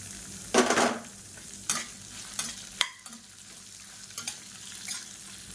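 Sliced onion sautéing in a pan for a South Indian chutney, with sharp stirring scrapes and clinks over a steady low sizzle, loud and close, no voices.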